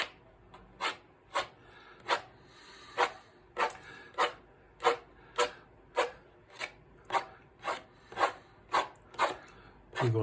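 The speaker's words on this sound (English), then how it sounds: "we're going to put some of those trees in simply by just doing some scraping, like this" Paint being scraped across a canvas to form trees in a forest landscape: about fifteen short, raspy strokes in a steady rhythm, close and distinct, with no talking.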